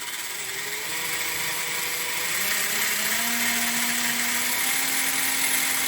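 Electric motor of an RGT EX86180 Pro 1:10 RC rock crawler runs at about quarter throttle, a thin steady whine whose pitch rises gradually, with constant background hiss.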